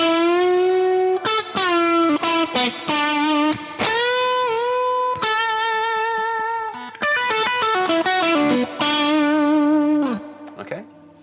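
Stratocaster electric guitar with overdrive played through a tube amp with reverb, a loud close run of sustained, harmonically rich notes and bends broken by quick picked phrases, with no talk over it.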